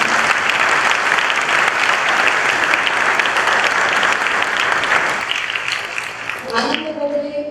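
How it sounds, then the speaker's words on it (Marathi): Loud, sustained audience applause from a large crowd at a gratitude-day event honouring soldiers, steady clapping that thins out near the end. "या सगळ्यांना एकदा जोरदार टाळ्या घेऊन"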